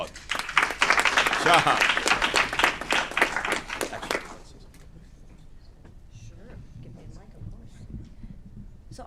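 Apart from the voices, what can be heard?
audience applause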